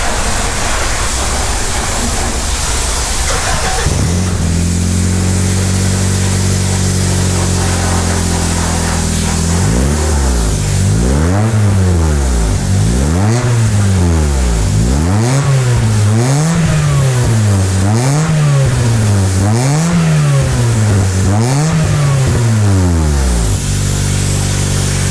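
A Honda Civic EG4 with a stainless steel exhaust silencer, still fitted with its catalytic converters and flame arrestors, idles roughly, then revs hard again and again in a steady series of rising and falling sweeps. Loud and close, with no voices.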